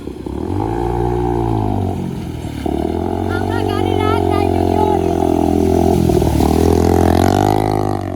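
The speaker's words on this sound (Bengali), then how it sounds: "আর আরেকটা বাইক আসছে রোডের উপর দিয়ে।" A motorcycle rides along a road submerged by floodwater in Assam, its engine note rising and falling steadily and loudly, close by throughout.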